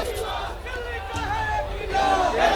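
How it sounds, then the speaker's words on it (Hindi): Large crowd gathered at the Hanuman temple in Connaught Place, Delhi, chanting slogans in support of Kejriwal, a dense, continuous roar of many voices that swells louder toward the end. "लोग हैं वो यहाँ पर केजरीवाल के समर्थन में नारे लगा रहे हैं"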